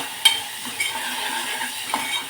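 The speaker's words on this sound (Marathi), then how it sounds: "आता तुपावरती तांदूळ थोडेसे परतून घेतले की मस्त असा मऊसूत मोकळा मोकळा भात तयार होतो।" Rice being sautéed in ghee in a pan for Maharashtrian coconut sweet rice (narali bhat), a steady soft sizzle broken by a few sharp scraping clicks of stirring, close and moderately loud.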